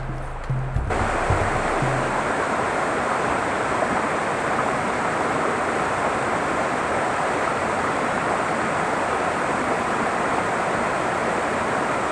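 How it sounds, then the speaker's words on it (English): Steady rushing roar of a waterfall at Beamer Memorial Conservation Area, a creek-bed cascade heard close and continuous after a brief quieter start. "There's the waterfall."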